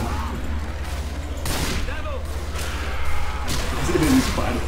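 Rapid bursts of gunfire in Left 4 Dead 2 crack over a steady low hum, with whooshing effects and a short, sharp blast near the end.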